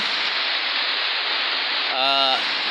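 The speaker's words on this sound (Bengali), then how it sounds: "দেখেন পাথরঘাটা প্রচুর বৃষ্টি।" Dense, steady rush of heavy rain pouring down in Patharghata, Bangladesh, heard from under a shelter, loud and continuous, with a brief voice near the end.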